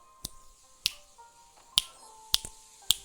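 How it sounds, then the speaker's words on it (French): Five sharp finger snaps ring out alone in a quiet room with a faint background hum. They are spaced unevenly, roughly half a second to a second apart. "J'espère que vous entendez les claquements de doigts, par exemple."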